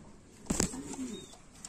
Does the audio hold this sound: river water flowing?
no